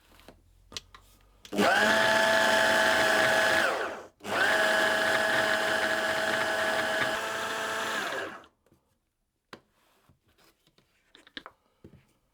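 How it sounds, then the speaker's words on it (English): A food processor blends tart pastry with egg yolk in two loud, steady motor runs of about two and four seconds, split by a short pause, followed by quiet clicks and handling noises. "I'll process that again, and then I'll add more egg yolk until everything comes together into a soft paste."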